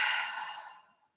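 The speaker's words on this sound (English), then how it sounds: "Exhaling completely." A single deep, breathy exhale during yoga breathing, close and clear, fading out steadily over about a second with no talk.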